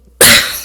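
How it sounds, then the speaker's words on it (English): A single sharp cough, loud and close, bursts out after a brief silence and tails off quickly. "Kinda getting a cough."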